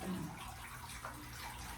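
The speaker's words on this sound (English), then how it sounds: "Y'all can listen to the sounds of the waterfall while I go and get a towel" Water trickles steadily from a three-tier garden bird bath fountain, a soft continuous splashing and gurgling heard up close with no one talking.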